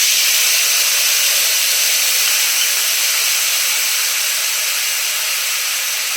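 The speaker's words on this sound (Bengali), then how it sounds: "তো জিরা বাটাটা আগে দিয়ে দিলাম।" Cumin paste hitting hot oil in a pan, giving a loud, steady sizzling hiss that holds at one level without a break.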